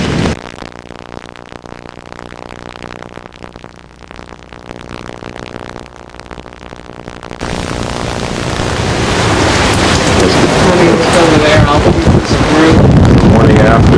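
Strong hurricane wind roars against the microphone, building from a steady buffeting into a louder, fuller rush of gusts in the second half.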